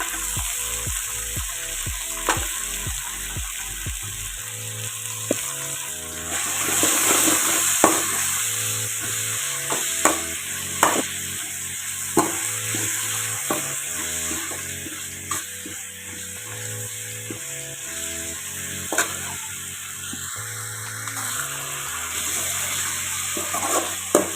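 Drumstick flowers and drumstick pods sautéing in a hot pan for a soup, a steady loud sizzle and frying crackle with stirring scrapes running throughout, no voices.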